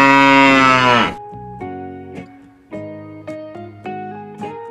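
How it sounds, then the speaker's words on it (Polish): A cow gives one long, loud moo up front, followed by several quieter overlapping tonal notes of music, with no talking. "Krowa."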